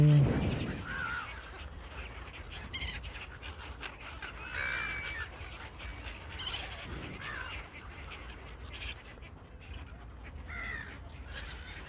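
Several seagull calls ring out intermittently over a steady outdoor noise bed at the Bang Pu seaside resort, harsh cries scattered throughout with no talking.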